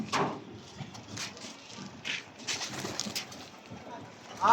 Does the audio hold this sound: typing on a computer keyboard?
no